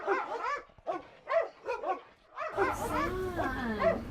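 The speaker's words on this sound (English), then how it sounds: "Der er en hund, der bor herinde" A dog barks indoors in a series of close, sharp yips and barks, then a longer whining, howling run of barks over a low background hum.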